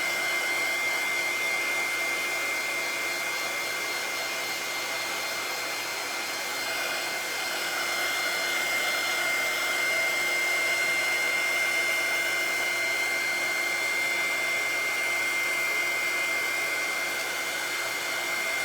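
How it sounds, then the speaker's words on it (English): A handheld heat tool blows hot air in a steady, unbroken whirring hiss at close range, holding the same level for a long stretch while it is used on a primitive Halloween craft project, with no talk. "If you do get the heat tool, just be careful because it does get very hot."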